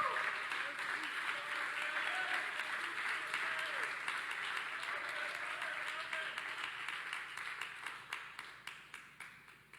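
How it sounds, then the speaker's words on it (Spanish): A church congregation applauds, a dense, steady wash of many hands clapping that holds for several seconds, then thins into scattered, separate claps as it fades out. "De una ofrenda de palmas al Señor esta preciosa hora."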